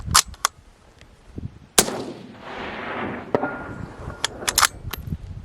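A single loud rifle shot cracks out sharply and rings away, fired during a scope test with an Arken SH4 gen II riflescope mounted; a few faint clicks and handling knocks surround the blast.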